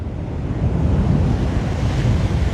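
Loud ocean surf and gusting wind on Waimanalo Beach, Hawaii, a steady close wash of waves with heavy wind buffeting the microphone, no talking.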